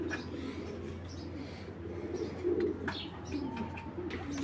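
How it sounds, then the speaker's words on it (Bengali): Pakistani Kaldom pigeon chicks cooing softly and repeatedly at close range, with some faint chirps from other birds around them and a low steady background hum. "এক জোড়া পাকিস্তানি কালদমের বাচ্চা, বাচ্চা কবুতর।"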